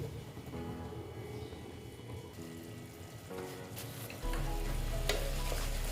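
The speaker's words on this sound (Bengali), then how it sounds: "মশলাটা আমি জল দিয়ে গুলিয়ে দিয়ে দিলাম দেখো মশলাটা আমি কষে নেবো" Spice paste mixed with water frying in a pan for potato chana dal, a steady close sizzle with stirring scrapes, growing louder near the end.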